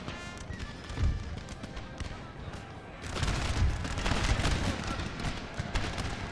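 Musket volleys from the Napoleonic-era strategy game Napoleon Total War crackle in rolling bursts, growing denser and louder partway through, with a dull thump of battle beneath and possible faint voices.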